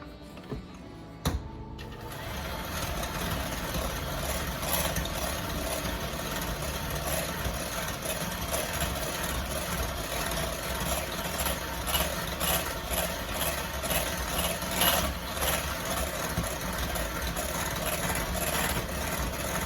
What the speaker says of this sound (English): I'm turning the KitchenAid and the bowl.